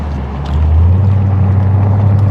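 A Dodge Hellcat in manual mode rumbles low and close, its engine swelling in loudness after half a second, then holding a deep, steady growl.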